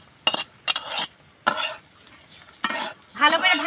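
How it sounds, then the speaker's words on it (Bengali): Boiled potatoes fry in a pan while being stirred, giving several short bursts of scraping and sizzle separated by brief pauses, close and fairly loud. "আলু পানি দিয়ে সিদ্ধ করে লিছি এখন লাল লাল করে ভাজা লিছি"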